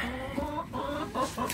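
Leghorn chickens cluck close by in a quick run of short, throaty calls, with light rustling underneath.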